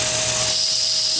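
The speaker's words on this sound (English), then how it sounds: "I'm just trimming this down to length." Brief, loud, close whine of a power tool trimming a workpiece to length, with a steady high-pitched tone throughout.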